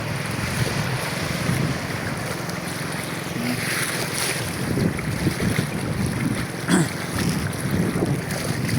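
Steady wind buffeting the microphone over the open sea, with a low rumble of a boat and water throughout; no voices.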